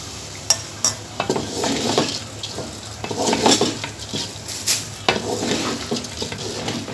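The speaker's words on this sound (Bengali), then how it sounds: "আমার চাল ভেজে নেওয়া প্রায় শেষ" Rice and frozen peas fry in a pan for pulao, a steady sizzle broken by repeated scraping stirs and clinks of a utensil against the pot, close and without talk.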